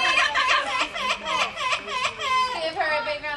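A yellow-naped amazon parrot imitates a crying baby, giving a run of close, wavering, sobbing wails that rise and fall continuously without pause.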